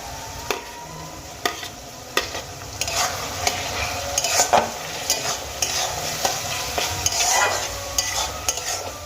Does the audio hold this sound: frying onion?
yes